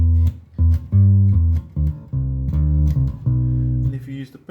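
Bass guitar plays the second bar of riff 2 from a song, a handful of loud, deep, sustained plucked notes in a steady rhythm.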